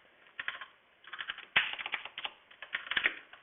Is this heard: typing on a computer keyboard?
yes